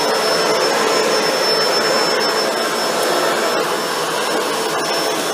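A Shark NV801/NV803 upright vacuum cleaner runs continuously, a loud, close, steady whooshing motor roar with a faint high whine that holds level throughout.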